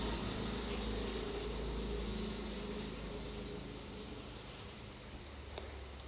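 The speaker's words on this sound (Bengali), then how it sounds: "এখন আমি বেসনে ডুবিয়ে তেলের মধ্যে ছেড়ে দিচ্ছি।" Potato chops dipped in gram flour batter sizzle in hot oil, a steady, even frying hiss with a faint bubbling crackle that holds throughout, with no talking.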